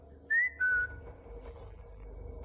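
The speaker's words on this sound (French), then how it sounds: "J'ai entendu ce qui ressemblait à quelqu'un siffler comme ça" Two short whistled notes, the second slightly lower and longer, sound clearly over a faint low background hum.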